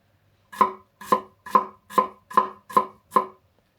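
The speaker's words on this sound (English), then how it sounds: "I don't want to clean 2 knives, so just use it to cut everything" A single knife chopping ingredients for poke on a cutting board, seven crisp evenly spaced strokes, close and clear with no talk.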